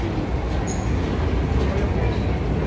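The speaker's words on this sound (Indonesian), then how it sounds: "Keretanya datang, Rek." A train pulls into a station with a loud, steady low rumble that fills the whole moment, a faint brief squeal rising above it, and no clear voices.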